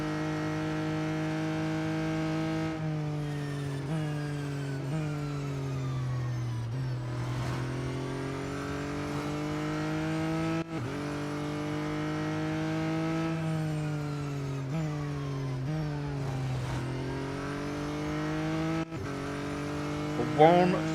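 A McLaren Artura GT4 race car engine in Real Racing 3 holds a steady high whine that rises and drops with each gear and corner over about twenty seconds, loud and continuous, with a short bump near the end.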